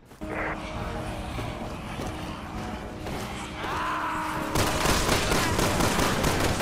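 Rapid gunfire in the video game Resident Evil 6, dense bursts of shots rolling together with game effects and a rising roar, loud and continuous throughout.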